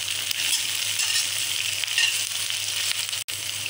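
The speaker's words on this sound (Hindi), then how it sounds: "अब इसको हल्का सा हमने भून लेना है" Green chillies fry lightly in a pan for homemade chilli sauce, giving a steady, even sizzle and hiss with a single sharp tap near the end.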